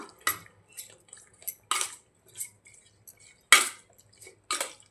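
Chicken is mixed with turmeric and salt in a pot, producing a series of irregular clinks and scrapes of a utensil against metal. The bursts are short and separated by quiet gaps, and no one speaks.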